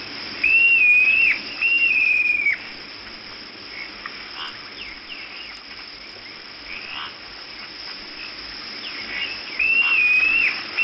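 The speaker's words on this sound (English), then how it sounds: "There's a nightjar whistling now." A nightjar whistles at night on safari, a few clear warbling whistles repeated at intervals over a steady chorus of frogs and insects, with no talk.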